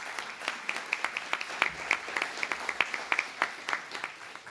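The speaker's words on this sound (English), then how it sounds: "how about one more round of applause for all of our candidates?" A modest crowd at a 2023 Madeira city council candidate forum claps for the candidates, a thin patter of individual claps that is distinct and fairly close, fading slightly after a few seconds.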